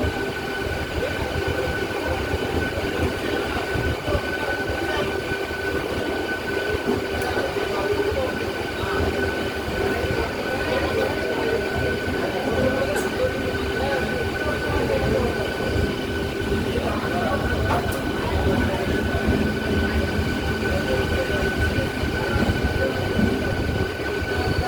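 A Howrah–Digha EMU summer special pulls into platform 3 at Digha station, giving a continuous rumbling rattle of carriages with occasional faint squeals and clicks, steady and close from inside the train.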